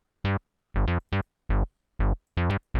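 Short staccato bass-line stabs from the TAL-U-NO-62 Juno replica synth: about nine clipped, punchy notes in a syncopated funk rhythm, loud and close with silence between hits, no talking.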